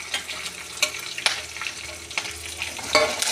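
Cashews, green chili and ginger sautéing in a pan, a soft continuous sizzle broken by several sharp scraping stirs of a spoon against the pan.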